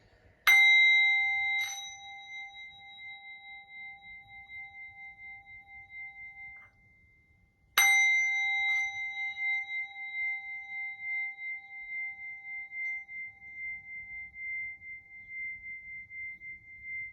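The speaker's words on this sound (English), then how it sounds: "and as I ring the bell," A bell rung during a tarot reading gives two clear, bright strikes several seconds apart. Each strike has a sharp attack and a long shimmering ring that fades slowly in a quiet room.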